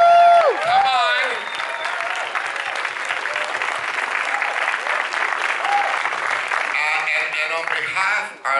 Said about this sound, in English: a round of applause for what they call the best cast ever assembled